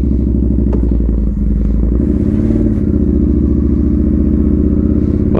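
A Yamaha Bolt motorcycle cruising with a loud, steady engine drone close to the rider, shifting in pitch around two seconds in, without a break and with no voices.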